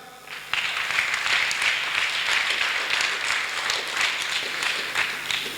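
A church congregation breaks into sustained applause after a brief quiet moment, steady dense clapping filling the room for several seconds, with no speech over it.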